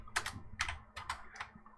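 Someone types a short command on a computer keyboard to home a 3D printer axis, about five crisp close keystrokes spaced unevenly over a faint background hum.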